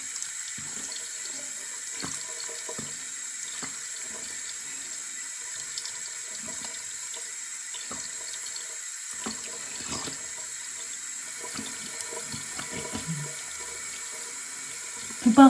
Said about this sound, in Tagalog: babanlawan na po natin siya ng maligamgam na tubig o di kaya malamig na tubig